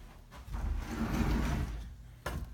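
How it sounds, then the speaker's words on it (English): Closet sliding door dragging on a faulty roller as it is pushed, a quiet low grinding scrape lasting about two seconds, followed by a brief knock. "When pushing it back, you can see that it doesn't slide at all."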